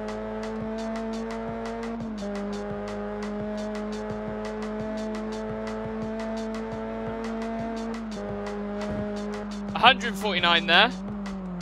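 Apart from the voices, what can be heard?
car spinning out in the video game Test Drive Unlimited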